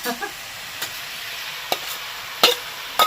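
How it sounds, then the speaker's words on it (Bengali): Ground gadal leaf paste going into a pan of frying vegetables, including pointed gourd, with a low sizzle under a few sharp spoon scrapes and clacks against the pan, close up. "এবার আমি দিয়ে দিচ্ছি যে ভাদালিটা বেটে রেখেছিলাম মানে তোমাদের ভাষায় গাদাল পাতা সেটা"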